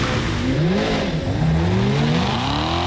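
A 2025 Corvette ZR1 launches in a drag race with its tires spinning, giving a loud, close engine roar whose pitch climbs and wavers as the wheels slip without traction, with no talk over it.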